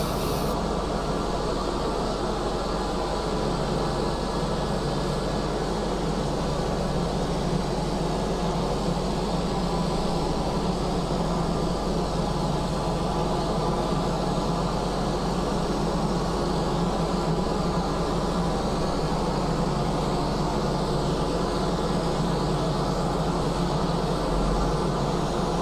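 A C-130 takes off in a flight simulator game, heard as a steady, loud engine drone and broadband roar that holds unchanged for the whole stretch, with no talking.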